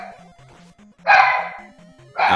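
A dog barks loudly and close, two gruff barks about a second apart, with a voice talking steadily underneath.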